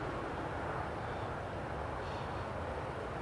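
A Jet2 airliner bound for Lanzarote sits on stand 11 at Newcastle Airport ready to push back, its engines producing a steady, even roar and hum heard from a distance with no voices.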